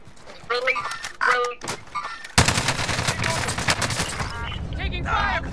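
Rapid gunfire in a Call of Duty multiplayer match, a dense burst of shots that starts abruptly and keeps going loudly, with players' voices talking over the start.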